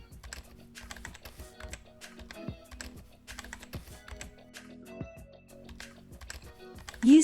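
Payment card and billing details being typed on a computer keyboard: a steady run of close, crisp key clicks with uneven rhythm and small pauses, ending in a louder thump.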